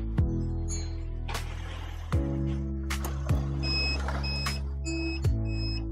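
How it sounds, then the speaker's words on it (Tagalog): A few short electronic beeps sound at intervals over a steady low hum, with sharp clicks between them. "Narinig nyo po nag-beep. Ibig sabihin po na-detect niya na nag-blackout."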